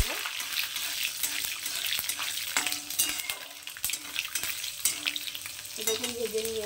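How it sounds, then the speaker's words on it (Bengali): Mustard seeds, curry leaves and green chillies fry in hot oil for semiya upma, giving a constant crackling sizzle dotted with sharp pops and scattered utensil taps and stirring scrapes close by. "দিয়ে দিচ্ছি একটু কারি পাতা আর একটু কাঁচা লঙ্কা। এগুলো একটু ভেজে নেব।"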